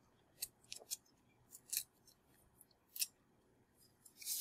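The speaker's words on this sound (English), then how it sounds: "So, you just tear off the excess like this." Paper strip being torn while folding a hexaflexagon: a handful of short, crisp rips and crinkles spaced across the clip, close and fairly quiet, with no voices.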